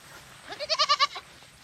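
A dairy goat herd heads out to pasture, with one nearby goat giving a single loud, wavering bleat of several rapid pulses against a quiet background.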